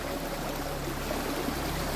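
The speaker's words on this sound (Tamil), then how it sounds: "இவ்வளோ தண்ணி வருதுன்னே தெரில பாருங்க காட்டாத்து தண்ணி மாதிரி வந்துட்டுருக்கு" Water rushes steadily like a forest stream near a waterfall in the Veerappan forest area, a constant broadband wash without pauses and no voices.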